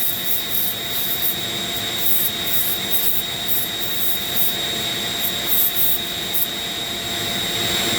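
A Dremel rotary tool carves a wooden friendship staff, giving a steady high motor whine with a gritty, rasping grind against the wood. It stays loud and continuous throughout, close by, with no talking.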